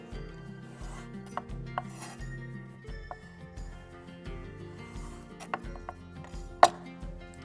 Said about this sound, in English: let's take a long peel and we will trim that, a really narrow trim.